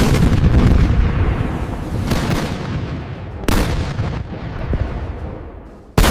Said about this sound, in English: Every gun, every machine gun, every 20mm flat cannon on both sides of the river opens up